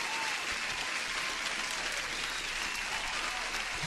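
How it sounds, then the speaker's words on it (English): Even, continuous applause at moderate level, a uniform wash of clapping with no break, heard during a live futures day-trading stream. "I want to give just one applause to everyone who's here."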